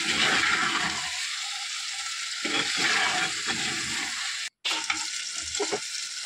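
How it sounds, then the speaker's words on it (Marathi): Masala and goat liver fry in oil for Malvani kaleji. The loud, close sizzle is stirred in bursts, and one brief silent gap breaks the frying. "सगळा मसाला खालचा लागला पाहिजे आणि त्यालासुद्धा तेलात भाजून घ्यायचं आहे. अशा प्रकारे सावकाश परतून घेऊया."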